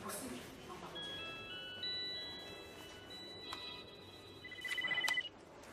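Telephone ringing for a conference call, a faint electronic ringtone of thin repeating tones that grows a bit louder toward the end over quiet room background.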